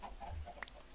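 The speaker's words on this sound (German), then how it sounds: "Ihr Hühner." Minecraft chickens give a few soft, brief clucks in the game, faint and close together over a low hum, with no talking.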